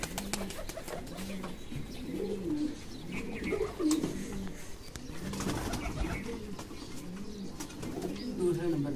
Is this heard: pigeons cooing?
yes